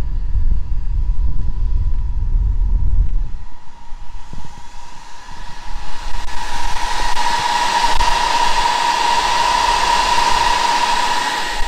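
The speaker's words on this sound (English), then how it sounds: "As you can hear, pretty loud machine." A 400 kW EVBox fast charger at a Fastned station in cold weather runs loudly, a steady fan-like roar with a low rumble that swells and brightens after the first few seconds, holding a constant whine throughout.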